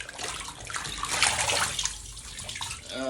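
Water splashing and sloshing as acoustic foam sound panels are laid on and soaked in water, a close, steady wash of liquid noise rising and falling over a few seconds.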